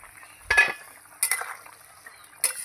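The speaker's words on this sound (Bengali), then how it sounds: "এই যে ঢাকনাটা খুলে দেখব ঝোলটা কতটা ফুটেছে।" A lid comes off a pot of fish curry simmering on the stove, with a few separate clanks and scrapes of metal spaced apart over a quiet background.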